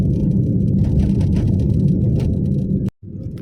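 A Swift Dzire running on CNG drives along with a steady low engine and road rumble heard from inside, then cuts out briefly near the end.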